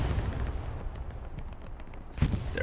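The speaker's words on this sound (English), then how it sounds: "he got taken out by the artillery" Distant booms of artillery fire in Hell Let Loose under a low rumbling battlefield bed, with a sharper, louder impact near the end.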